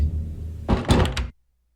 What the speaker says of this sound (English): Standing face to face with her front door, I knock.